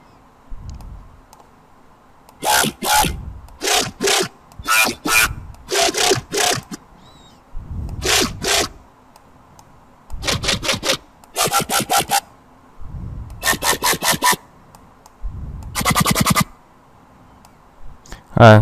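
A synthesized wavetable growl designed from scratch: repeated bursts of gritty, buzzing bass notes in short rhythmic phrases separated by brief silences, loud and upfront with no voices.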